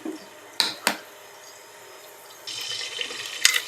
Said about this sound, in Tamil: தேங்காய் எண்ணெய் ஊற்றிக்கிறேன்